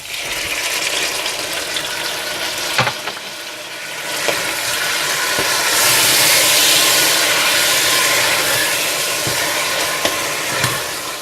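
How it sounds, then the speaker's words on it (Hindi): Masala sizzling in a pan with tomatoes added and stirred, a steady loud frying hiss with occasional scraping clicks of the spoon, swelling slightly in the middle. "थोड़ा सा भूनने के बाद आप इसमें टमाटर डालकर मिला लें।"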